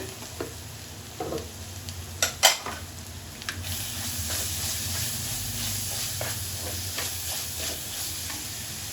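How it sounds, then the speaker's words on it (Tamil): Onion with ginger-garlic paste sautéing in a pan for a spicy crab gravy, a steady close sizzle and hiss with a few sharp scrapes and clinks of a spoon stirring early on, no voices. "வெங்காயம் தக்காளி இஞ்சி பூண்டு எல்லாம் வந்து பச்சை ஸ்மெல் போகிற வரைக்கும் நல்லா வதக்கி எடுத்துக்கோங்க"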